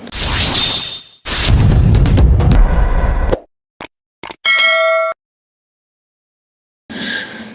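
Notification bell ding effect in a video intro, a ringing metallic chime after whooshing, clanging bursts, followed by a bright sustained tonal ding and then silence.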